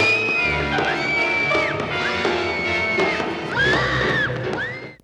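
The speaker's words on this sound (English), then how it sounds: "So number 2 was the whistle scream." High-pitched whistle screams for the 1989 horror film Intruder rise and fall in repeated piercing bursts over a noisy, crowd-like background, fairly loud and fading out at the end.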